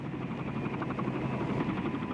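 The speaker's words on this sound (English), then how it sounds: "helicopters were landing and taking off from inside the grounds" Helicopters landing and taking off at the U.S. Embassy during the Vietnam War evacuation make a steady, loud, chopping rotor drone that continues without a break.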